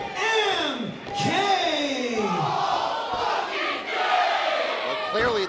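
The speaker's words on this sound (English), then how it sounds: "clearly this crowd here in Worcester has been hanging around with Ava Everett too much with their potty mouth" A live wrestling show crowd in Worcester chants loudly in rising and falling unison, with voices swelling over a constant arena roar.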